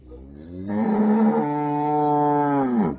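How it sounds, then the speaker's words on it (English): A big cow moos loudly and close by on a rural riverside hiking trail, giving one long, steady, drawn-out low call that lasts a few seconds. "Oh, watch out for this big cow."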